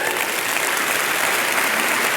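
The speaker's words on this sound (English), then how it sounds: "So let's give ourselves a big round of applause." A large conference audience at the PMI Global Summit opening keynote claps in a thick, unbroken burst lasting a couple of seconds.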